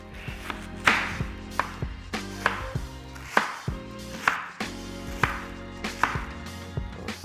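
A knife chops cabbage on a board while making a traditional Ethiopian stuffed bread, a quick run of crisp, rhythmic thuds close by over soft background music.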